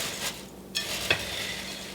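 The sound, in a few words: gently stirring coated cereal in a big bowl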